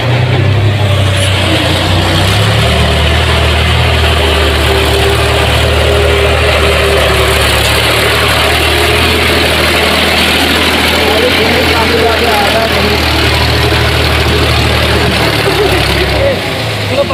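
A tractor engine idles steadily throughout, a loud continuous low rumble while people talk nearby at a village street worksite where a trolley is being backed up.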